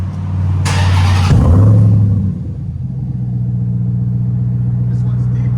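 A RAM TRX fitted with Vibrant bottle resonators on its exhaust blips once with a loud, deep roar, then settles into a low, steady rumbling idle that carries on after the rev dies down.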